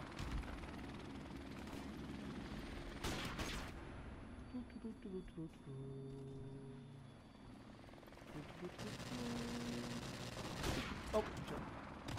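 A helicopter in an online shooter video game thumps and whirs steadily throughout, mixed with bursts of gunfire and explosions, while a player talks over the action.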